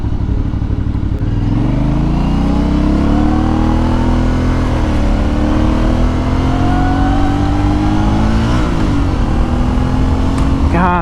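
An Aprilia Shiver 900 motorcycle accelerates hard with a loud, close engine roar rising in pitch, dropping briefly at gear shifts and climbing again, under steady wind rush; a rider's voice is faint beneath.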